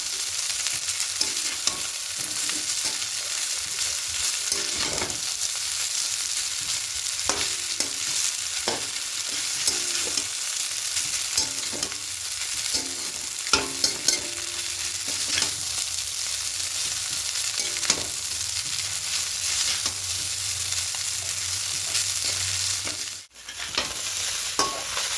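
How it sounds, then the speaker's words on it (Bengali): Egg bhujia being stirred into semolina chowmein in a hot pan, a continuous loud sizzle with repeated scraping strokes of a spatula throughout, briefly pausing near the end. "এবার এখানে ডিমের ভুজিয়াটা দিয়ে দেবো, দিয়ে সব কিছু খুব ভালো করে মিশিয়ে নেব"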